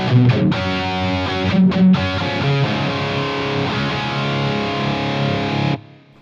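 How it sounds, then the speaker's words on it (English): A heavily distorted electric guitar through a Line 6 Helix preset, drive raised to 6, plays sustained, gritty chords loudly for several seconds, then cuts off abruptly near the end. "So you're going to get more distortion,"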